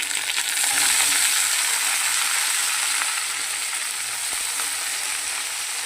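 Water spinach tossed onto onions already fried in fish oil hisses loudly and steadily in the pan, with a brief scrape or two near the start and no voices.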